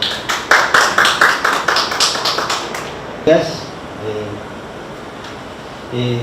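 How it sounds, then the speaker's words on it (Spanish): Audience at a talk on mining law welcomes the next speaker with a burst of rhythmic clapping, loud and close at first, then thinning to scattered claps and a few faint voices before fading. "Recibámoslo con un caluroso aplauso"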